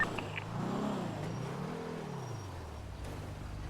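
A red supercar in GTA RP on the NoPixel server drives by, its engine rising and falling in pitch as it revs through a low steady rumble, moderately close, with no talking.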